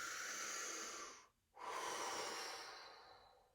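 A deep breath drawn in and let out: a long airy inhale, a short pause, then a long soft exhale, close and alone.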